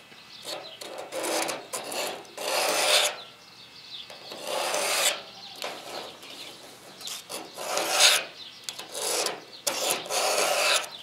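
A Lansky sharpening system hones the worn edge of a titanium-handled knife. About eight close, rhythmic rasping strokes come one after another, each a scraping rub of stone on steel with short pauses between.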